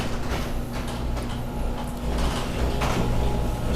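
A new Costco garage door rolls open under its electric opener, a steady mechanical hum with light rattling and clicking from the track and motor, close by and without speech.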